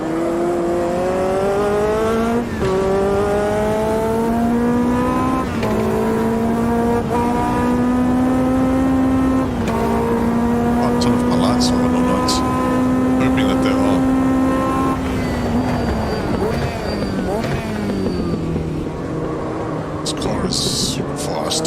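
Race cars in Automobilista 2, a sim racing game, their engines whining high and steady while shifting pitch through the gears during two quick overtakes, with a person talking over the continuous roar.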